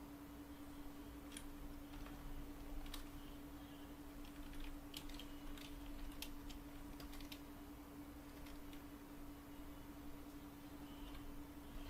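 Keys clatter on a computer keyboard in quick, irregular bursts of soft clicks over a constant hum, quiet and fairly close, during a command-line network session.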